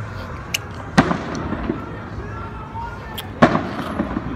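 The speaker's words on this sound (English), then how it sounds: "I know you can hear the firecrackers right now" A few sharp, distant firecracker bangs go off on the Fourth of July, spaced a couple of seconds apart, over a low steady background murmur.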